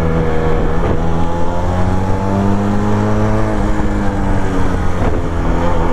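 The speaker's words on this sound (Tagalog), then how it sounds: "Ganda talaga na tunog na itong motor na to" A loud engine idles and revs steadily nearby, a deep continuous rumble with shifting pitch, no voices.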